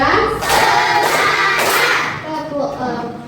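A classroom of children claps together in a counted sequence led by a teacher, giving a few sharp, evenly spaced bursts mixed with young voices talking and calling out.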